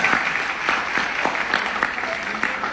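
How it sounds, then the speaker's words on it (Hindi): Audience at a business seminar applauding, a steady round of many hands clapping with distinct beats, and a voice briefly under it. "आप तो तालियां बजा रहे हो यार"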